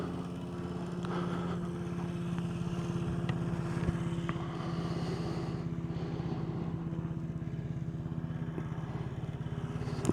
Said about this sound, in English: let's get this air-cooled Vespa back on the road